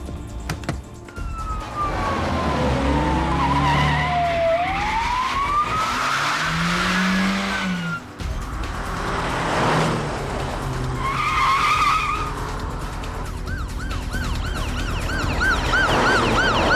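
A car skidding as it turns round, long tyre squeals sweeping up and down, with a siren wailing and an engine roaring loudly throughout a tense chase scene in a TV drama.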